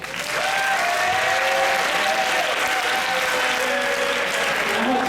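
A school audience applauds as a second-year student steps up to give a presentation, loud sustained clapping from many hands filling the room, with faint tonal sounds running through it.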